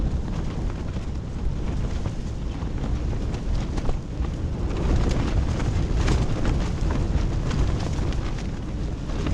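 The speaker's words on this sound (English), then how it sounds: "this wind is kicking, folks." Strong wind roars and buffets the microphone continuously, a dense rumbling gusting noise with no speech.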